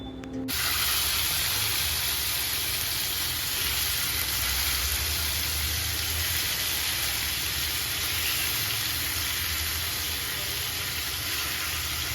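Chicken pieces fry in a small amount of mustard oil, a steady hissing sizzle that runs loud and unbroken from the first second to the end, with no talking over it.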